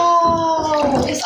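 Water fills a bathtub with a bath bomb in it, a steady rushing wash heard close up while a voice talks over it.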